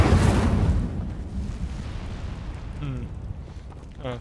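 The Incendio fire spell is cast in the video game Hogwarts Legacy, bursting with a loud whooshing blast that fades into a rumbling roar while a voice speaks briefly over the tail.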